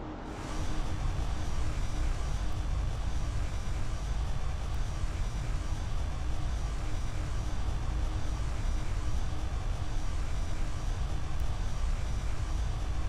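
Airplane engine at full throttle in the Roblox flight game Aeronautica: a steady, loud, unbroken roar of the engine that holds for the whole stretch, with no voices.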